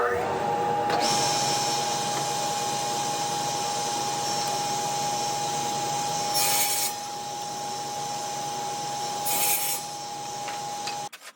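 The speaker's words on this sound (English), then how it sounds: "The lumber from the pallets is all white oak and very dry and full of splinters, so I was just planing off the roughness." Continuous rasping of a hand plane over dry, splintery white oak pallet lumber, a steady scraping drone with two brief brighter bursts of shaving strokes, ending abruptly with a few light knocks.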